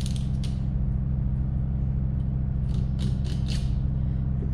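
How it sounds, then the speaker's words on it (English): A low steady hum underlies several short, gritty scraping strokes, a few near the start and a cluster toward the end, as a knife grates along the backbone while filleting a brill. "You can probably hear that, just scraping against the bones."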